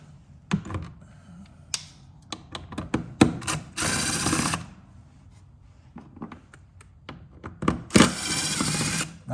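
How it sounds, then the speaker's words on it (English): An Allen wrench works the outer bolts off a Honda air filter panel, giving irregular metallic clicks and taps with two longer scraping bursts, close and fairly clear, with no talking. "take an Allen wrench or something like this, okay? I just have a number 5 on here. Go ahead and take these outer bolts off right here, like so."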